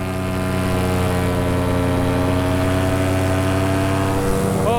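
Paramotor engine in flight over tall sand dunes, throttled up: a loud, steady droning propeller buzz close by, holding an even pitch throughout with a slight shift near the end.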